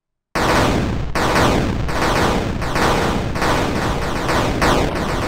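Repeated loud shots in the video game Faith: about seven harsh, evenly spaced blasts, each one decaying into the next after a short silent start.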